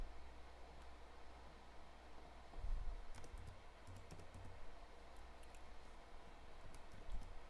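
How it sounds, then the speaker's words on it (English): Faint keystrokes click on a computer keyboard during a stock-trading livestream, scattered irregular taps over a steady background hiss. "I start typing Infected P into the search bar"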